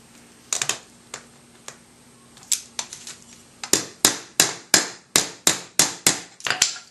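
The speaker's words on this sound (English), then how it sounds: "I'm going to tap them with a hammer." A hammer taps the seals on a Maytag/Whirlpool washer transmission, sharp close metallic strikes, sparse and uneven at first, then a quick steady run of about a dozen evenly spaced blows.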